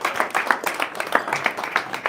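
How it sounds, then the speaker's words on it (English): An audience claps in a small room, a quick burst of scattered hand claps with a few loud individual slaps standing out over the rest. "Let's clap."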